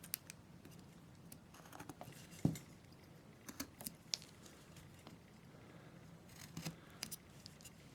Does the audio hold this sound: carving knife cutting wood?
yes